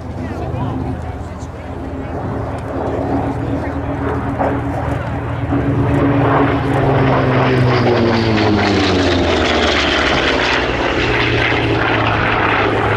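At Sywell Airshow, a 1943–44 WWII warbird flies a display with a loud, steady propeller engine drone whose pitch sweeps as it passes, while a commentator talks over it.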